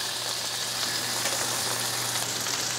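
Bacon frying in a 12-inch Amazon Basics pre-seasoned cast iron skillet, a steady close crackling sizzle with a constant low hum beneath, alone without voices.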